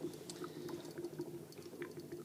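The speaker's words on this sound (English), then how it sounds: "It's bubbling." A chemical reaction that gives off brown gas fizzes and bubbles with a steady, faint gurgling crackle, close by and continuous, with no voices.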